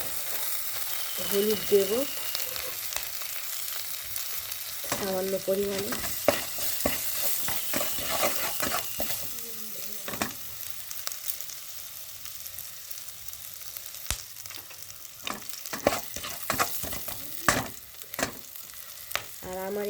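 Spices fry and sizzle in a pan for a poppy-mustard bhetki dish, with steady sizzling and repeated spatula scrapes and stirs, while someone talks briefly over it.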